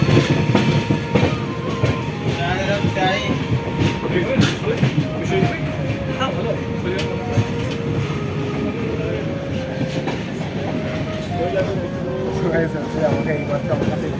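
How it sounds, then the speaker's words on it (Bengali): A train pulls into a station platform on an adjacent track, a continuous loud rumble of rolling wagons with rhythmic clicking throughout, while a person talks over it nearby. "আর এই সাইডে এই যে আরেকটা ট্রেন ঢুকে গেছে"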